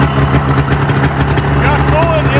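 A Yamaha VMAX motorcycle engine idles steadily, loud and close, with a deep, even rumble and a strong low hum throughout. Someone may speak over the running engine.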